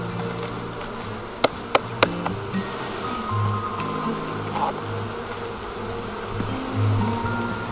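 Honeybees buzz steadily around a new hive as they are shaken from a frame into a brood box, a low insect drone throughout with a few sharp knocks near the start and no talk.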